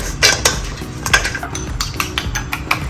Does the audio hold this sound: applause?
no